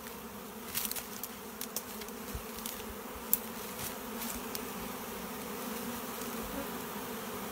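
Faint, steady buzzing of many honey bees droning around a hive, with occasional louder passes of individual insects close by.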